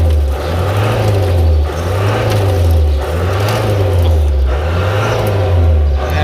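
A car engine started after sitting parked for ten years, blowing out rust as it revs. It is loud and close, with a rough running note that swells and dips in a regular rhythm about every second, and no voices.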